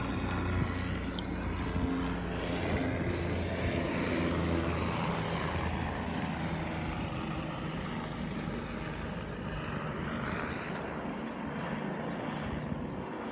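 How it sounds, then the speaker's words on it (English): A loud helicopter flying overhead above a coal port blockade protest in Newcastle, Australia, its engine and rotor drone steady and continuous throughout, with no voices. "there's a really loud helicopter up there."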